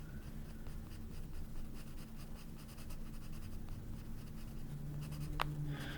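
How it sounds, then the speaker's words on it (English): Gray wax crayon scratching across paper in a coloring book, a close, continuous rasping of back-and-forth strokes with a sharper scrape near the end, quiet and intimate. "I love the way crayons sound against paper"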